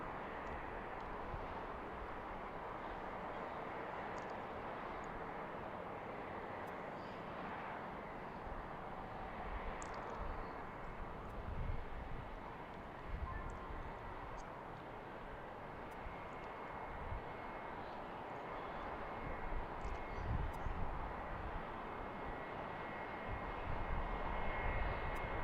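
A Southwest airliner arriving at BWI airport roars as a steady, distant engine rumble that swells slightly toward the end, heard outdoors with no talking.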